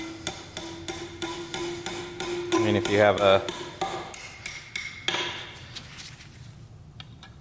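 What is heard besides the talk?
hammer tapping differential shim into place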